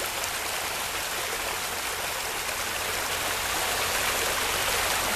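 Water gushing from burst water lines floods a street in an apartment complex, a steady, dense broadband rush like a loud stream that stays constant and close throughout.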